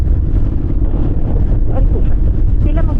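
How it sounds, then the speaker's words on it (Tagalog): Strong wind roars and buffets steadily against the microphone during a Honda X-ADV group motorcycle ride, a dense low rumble that continues throughout, with a voice talking over it. "Sobrang lakas ng hangin."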